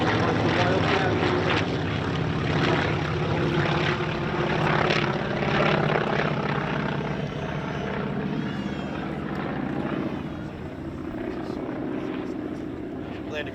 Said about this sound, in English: Their demonstration flights today in our Avenger and Wildcat.